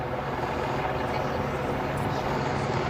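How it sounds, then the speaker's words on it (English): A police helicopter hovering overhead at a Los Angeles protest scene gives a steady, broad rotor and engine hum, continuous and fairly loud with no pauses. "You may hear the hum of the police chopper overhead just surveying the situation here."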